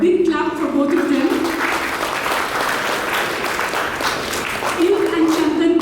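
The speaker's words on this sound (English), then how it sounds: "Professors Tejaswini, Vishal, big clap for both of them." Audience applause at an exhibition event by the Karnataka Chitrakala Parisath, steady and full through the whole span, with a speaker's voice over the clapping at the start and end.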